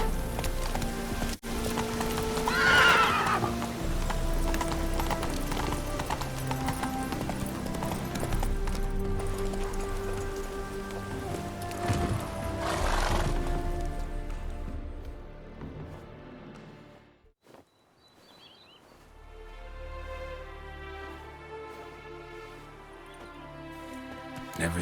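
Roach, the horse in The Witcher 3, gallops with steady clip-clop hoofbeats over swelling game music, a brief whinny rising near the start; the sound dips to near silence before the music and hooves resume.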